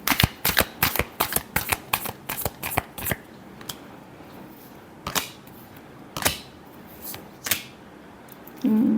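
Tarot cards are shuffled close up in a rapid series of crisp riffling snaps, which slow into scattered single flicks and end in a soft rustle.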